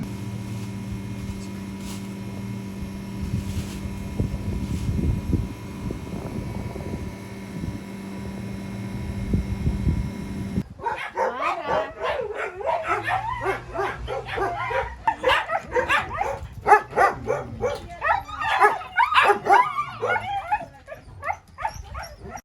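Stray dogs in Kazakhstan bark, yip and whimper close by in a rapid, uneven flurry, following a stretch of steady engine-like drone.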